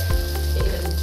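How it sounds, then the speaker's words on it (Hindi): Water starts running from a newly installed bathtub fitting, a steady broadband hiss and splash holding throughout at close range, with a few brief louder gushes and no voices. "ये देखिए पानी निकलने लगा है इसमें से"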